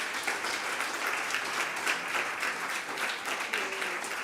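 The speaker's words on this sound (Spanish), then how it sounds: "Otro aplauso para ella," An audience at a Spanish poetry book presentation for Book Day applauds warmly, a sustained, even patter of many hands filling the room.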